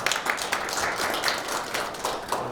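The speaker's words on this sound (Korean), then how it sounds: "교수님께 다시 한번 박수 부탁드리겠습니다" Steady applause from a seminar audience, a dense wash of many hands clapping at even loudness throughout.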